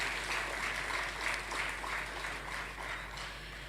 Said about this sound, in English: Join me, ladies and gentlemen, in applauding these outstanding young persons